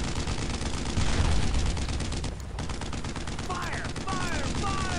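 Rapid gunfire poured onto a tank in the World War II shooter Brothers in Arms: Road to Hill 30, dense overlapping bursts of rifle and machine-gun fire, loud and continuous, with whistling ricochets near the end.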